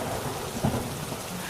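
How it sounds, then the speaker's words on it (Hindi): Heavy rain pours steadily in a cartoon storm over a village, a dense, continuous hiss with a low rumble of thunder swelling briefly midway, and no voices. "तभी अचानक फिर से भयंकर बारिश शुरू हो जाती है।"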